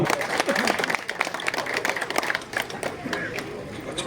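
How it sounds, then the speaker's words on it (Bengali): Sustained clapping from a gathered audience at a Trinamool Congress welcome ceremony in Rohanda, Barasat Block 2, fairly loud and continuous with crowd murmur and voices underneath, tapering slightly toward the end. "উত্তর চব্বিশ পরগনা জেলা করতালি করতালি ভিক্টরের জন্য"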